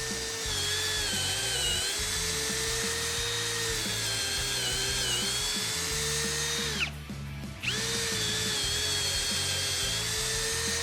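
A TECCPO 20V cordless drill bores a 5/16 bit into a treated 4x4, a loud steady motor whine under load with a brief dip near the end before drilling resumes.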